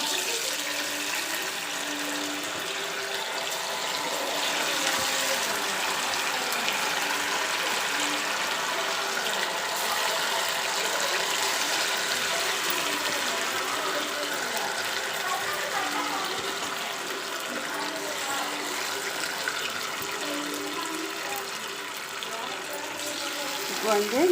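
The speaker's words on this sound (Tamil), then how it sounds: "நம்ம பெரட்டி வச்சுருக்கிற சிக்கனை வந்து இதில் போட்டு பொரித்து எடுக்கலாம்." Marinated chicken 65 pieces frying in hot oil in a pan, a steady loud broadband sizzle and crackle that fills the whole stretch without pause.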